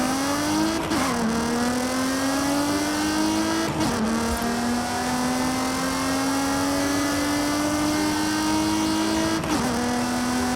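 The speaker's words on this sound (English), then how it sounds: "Shame they got the E46 M3 sound so wrong" A BMW E46 M3's naturally aspirated straight-six as rendered in the racing game Forza Horizon 5, a steady droning engine note rising slowly through the gears with three brief shift dips, loud and alone.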